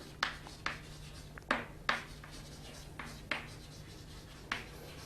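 Chalk or pen writing a math formula on a board, a series of short scratchy strokes and taps spaced irregularly, close but faint, no talking.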